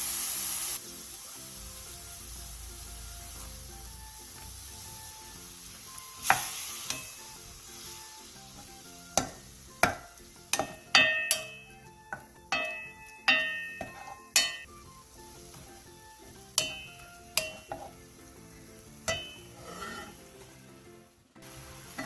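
Beef brisket with minced garlic, ginger and soju sears over medium heat in a pot, a quiet steady sizzle broken by a series of sharp, distinct scrapes and knocks from the utensil against the metal.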